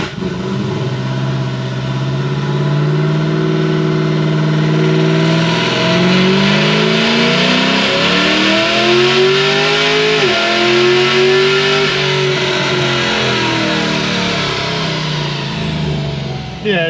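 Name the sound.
supercharged Chevy SS accelerating and shifting gears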